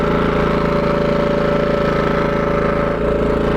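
A 5000W inverter generator engine idles in a steady, loud, close drone with a constant low hum and even tone throughout, no voices.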